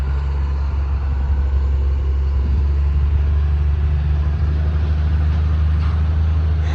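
Low steady engine rumble of a vehicle hauling away an old junk car, a continuous drone with no voices, holding fairly loud throughout.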